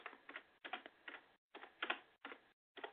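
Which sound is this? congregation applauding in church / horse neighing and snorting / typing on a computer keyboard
typing on a computer keyboard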